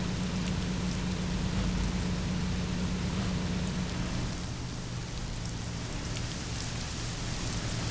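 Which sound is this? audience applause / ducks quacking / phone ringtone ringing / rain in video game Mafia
rain in video game Mafia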